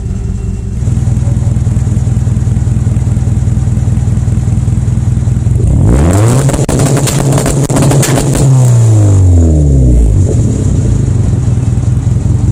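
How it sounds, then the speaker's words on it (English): A tuned Honda engine set up with ignition cut and rev limit revs hard and loud, with a crackling burst of exhaust bangs and pops in the middle as revs swing up and down, then settles back to a steady drone. "This is what's going to get you those crazy bangs and pops."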